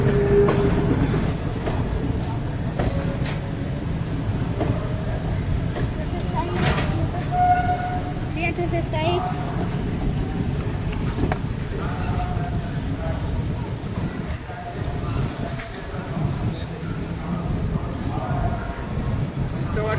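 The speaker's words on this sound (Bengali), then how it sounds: "এখানে ইন্টারসিটি এক্সপ্রেস একসাথে হাওড়া স্টেশন এন্টার করছে" An Intercity Express train pulls into Howrah station with a steady, loud rumble and rattle of carriages rolling along the track, while people talk nearby throughout.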